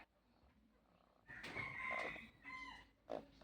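A mother hen with chicks clucks and calls close by in short bursts, with a brief higher peep near the end over a quiet outdoor background.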